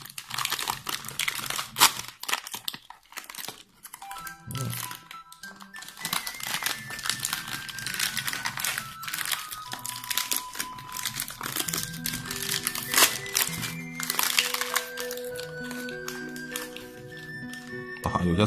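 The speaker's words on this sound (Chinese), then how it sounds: "打开尝尝它这个布朗饼干" A wrapper around a brown biscuit from a Dutch 24-hour military ration is torn and opened, giving close, continuous crinkling and crackling plastic for several seconds, with irregular rustling bursts and a faint steady tone behind.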